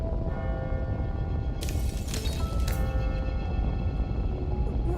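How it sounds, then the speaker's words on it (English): A clock bell strikes midnight in The Somnium Files: Nirvana Initiative, a resonant ringing tone rising over a steady dense game ambience with a brief bright clang of strikes in the middle. "Is that the bell?"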